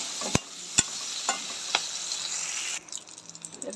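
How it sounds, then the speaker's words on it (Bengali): Beans and capsicum frying in a pan, a steady hiss of sizzling broken by a few sharp utensil clicks from stirring, before the frying fades to softer crackles. "বিনসটা আর ক্যাপসিকামটা ভাজা হচ্ছে।"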